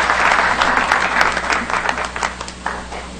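Dense audience applause in the National Palace in Haiti welcoming President Jovenel Moïse, a loud sustained wash of many hands clapping from a large crowd, slightly easing toward the end.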